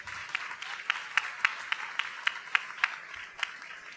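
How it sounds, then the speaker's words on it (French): An audience at a talk about board game careers breaks into applause, a steady run of claps with a few louder, distinct hand claps standing out over roughly four seconds. "On peut l'applaudir aussi."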